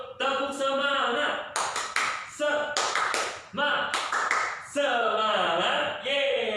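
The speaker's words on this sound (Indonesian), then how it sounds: "Kita tepuk semangat dulu." A classroom of students performs the tepuk semangat spirit clap, rapid rhythmic group claps in bursts with short pauses between them, mixed with children chanting and a teacher's voice.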